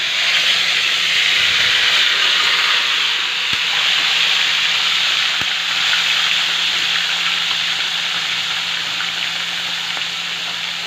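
Pakol and tilapia fish fry in hot oil, giving a loud, steady sizzle and crackle that runs unbroken throughout, close up.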